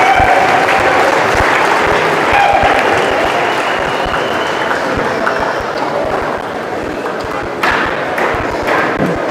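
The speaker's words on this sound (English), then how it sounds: "Let's have a big round of applause for Mr. Epifano and McDonald's of Jamestown and Fayette County." A crowd at a 2023 holiday tournament boys championship basketball game breaks into loud, sustained applause that fills the whole stretch, with scattered thuds and stomps mixed into the steady clapping.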